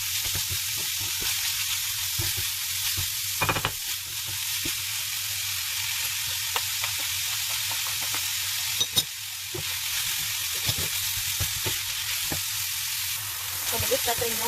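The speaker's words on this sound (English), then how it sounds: "You keep stirring like this until the beef are turned into brown color." Ground beef, about 250 grams, frying and being stirred in a pan for a lasagna, giving a steady close sizzle throughout with occasional scraping knocks of the utensil.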